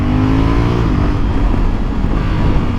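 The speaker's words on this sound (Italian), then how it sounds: "Sentite la doppietta in scalata" A close, loud 2020 Honda Africa Twin 1100 Adventure Sports motorcycle engine drops in pitch through a downshift, then a quick throttle blip sends the revs back up.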